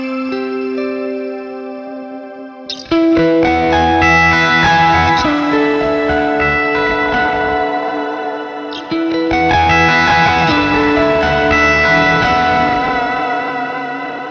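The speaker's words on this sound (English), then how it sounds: "the whammy pedal for the first time and we're sending it an octave up, and then we've got a little bit of reverb on" An electric guitar runs through the Neural DSP Archetype Gojira plugin with its whammy pedal shifting an octave up plus a touch of reverb, giving bright, synth-like sustained notes in two loud phrases, no talking.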